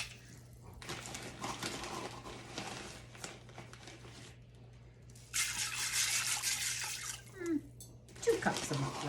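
Dry rice pours into a pot of turkey stock in two rustling, hissing bursts, with quiet kitchen clatter around it. A person talks at times between the pours.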